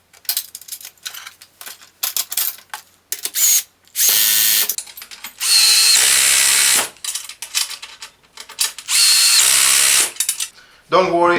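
A cordless screwdriver driving screws into a Gude MSKT 760 folding welding table, several loud whirring bursts of a second or two separated by clicks, handling noise and brief pauses.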